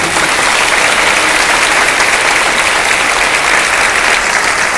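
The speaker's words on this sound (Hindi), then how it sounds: "ऐसे कहने वाले ऊंचे परमेश्वर के लिए ऊंचे ताली बजाते हैं।" A congregation claps loudly for God during a Hindi sermon, a dense, steady wall of applause that carries on without a break from start to finish.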